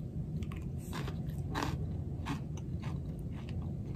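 Someone bites and chews homemade crispy egg white chips close up, producing several sharp crunches followed by softer mastication over a low background hum.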